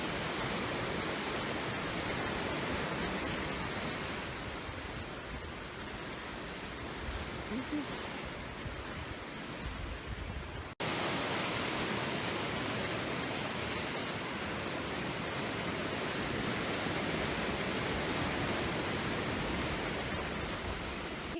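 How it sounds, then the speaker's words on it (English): Ocean waves crash against rocks below a Galapagos cliff on San Cristobal, a steady, dense roar of surf and spray that holds near and loud throughout, with a brief break midway. "I'm just watching the waves crash onto the rocks"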